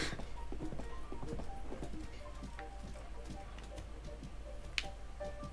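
Horse hooves clip-clop in Zelda: Breath of the Wild as the horse is ridden toward the Lost Woods, a steady, fairly quiet rhythm of light taps under game ambience and faint background music.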